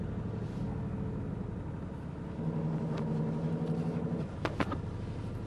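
A 1971 Citroën SM Maserati idles and manoeuvres at low speed, its engine a steady close rumble that deepens slightly midway, followed by a few brief sharp mechanical clicks near the end.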